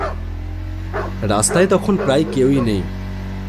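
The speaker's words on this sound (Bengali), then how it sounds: "দূরে দূরে কুকুর ডাকছে" Dogs bark and yelp somewhere along an empty night street, their calls rising and falling under a narrator's voice in a Bengali horror story.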